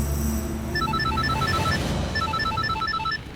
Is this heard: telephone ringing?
yes